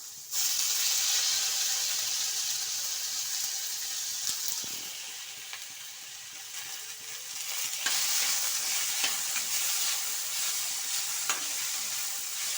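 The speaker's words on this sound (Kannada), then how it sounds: "ಫ್ರೈ ಮಾಡ್ಕೊಳ್ಳಿ ಎಣ್ಣೆಯಲ್ಲಿ" Tomato frying in hot oil for vermicelli upma, a steady close hiss and sizzle with occasional crackles and soft stirring, no talk.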